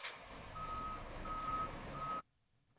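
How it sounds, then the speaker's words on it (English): A transport truck hauling bike tires pulls into a distribution center, its engine rumbling steadily while a reversing alarm beeps in three spaced runs before the sound cuts off abruptly. "Transport vehicles carry bike tires steadily toward regional market distribution centers"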